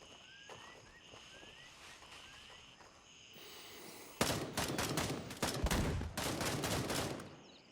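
Rifle fire in Gray Zone Warfare, a video game, with a Mosin rifle involved: a quiet stretch of insects and birdsong gives way to a loud shot, then a rapid barrage of heavy gunfire bursts that continues to the end.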